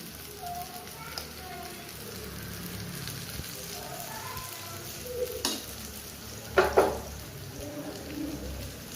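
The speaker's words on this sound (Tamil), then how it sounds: "கொஞ்சம் நீங்கள் எண்ணெய் ஊற்றணும் அப்போனா தான் பணியாரம் கொஞ்சம் நல்லா வரும்" Millet (kambu) paniyaram batter frying in oil in a paniyaram pan makes a soft continuous sizzle with a few sharper crackles and scrapes near the end.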